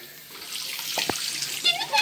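Tap water runs into a basin while a cat is being bathed, a soft steady splashing stream heard close but fairly quiet, with a few brief knocks and splashes over it.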